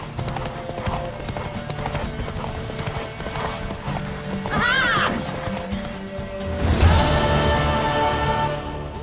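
In The Witcher 3, a mare races at a gallop with rapid, rhythmic hoofbeats. A whinnying neigh rises partway through, and a brief voice and a heavier thud follow near the end.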